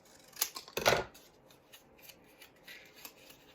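Scissors cutting a sheet of paper in half for a money gift tube, one loud close snip and rustle followed by a few softer paper crinkles and small cuts.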